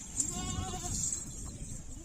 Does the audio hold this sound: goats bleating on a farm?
yes